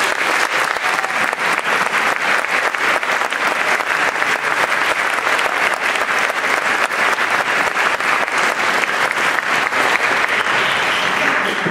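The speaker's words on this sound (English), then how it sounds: "Could I have our section leaders stand and receive a round of applause?" Sustained, dense audience applause at a youth concert orchestra performance as section leaders stand, steady and loud throughout with no pauses, filling the hall.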